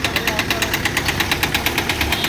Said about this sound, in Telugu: ఈ తాత నవ్వినట్టే సేమ్ మన బండి సౌండ్ వచ్చింది